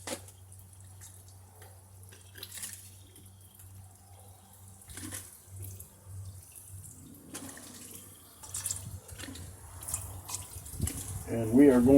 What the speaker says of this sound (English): So I'm going to rinse these down a little bit.